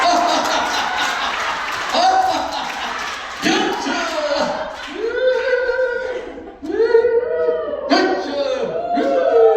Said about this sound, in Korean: 웃으면서 박수!